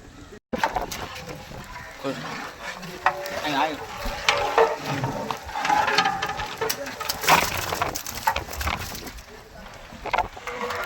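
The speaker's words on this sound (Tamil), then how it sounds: "கிண்டு வா கிண்டு வா கிண்டு வாப்பா கிண்டு" A large pot of chicken biryani is stirred continuously with a ladle, giving scraping, sloshing and clattering against the metal over a sizzling background, while people talk loudly around it.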